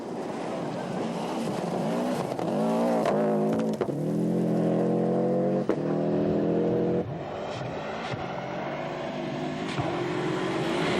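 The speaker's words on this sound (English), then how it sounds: "hurling the Subaru Impreza 555 down some of the fastest, smoothest and most demanding stages in the world" Colin McRae's Subaru Impreza 555 rally car charges down a fast World Rally Championship stage in 1995, its engine loud and close, with revs climbing and dropping through repeated gear changes.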